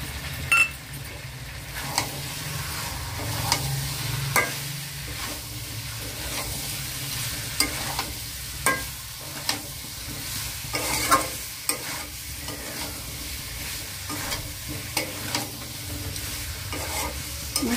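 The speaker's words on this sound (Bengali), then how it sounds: "মশলাটা ভালো করে মিশিয়ে নিয়ে দিয়ে দিচ্ছি জল।" Spice masala for potato curry (aloo dum) being stirred in a frying pan: a soft, continuous sizzle broken by repeated scraping strokes and light clinks of the utensil against the pan, fairly quiet and close.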